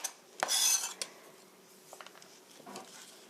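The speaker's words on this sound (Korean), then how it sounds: "마늘 쪽도 조금 보여야 하니까 이렇게 납작납작하게 썰어 주시고요" Garlic cloves being thinly sliced give a brief burst of knife-on-board contact followed by sparse, quiet taps and small clicks, close and faint, with no voice.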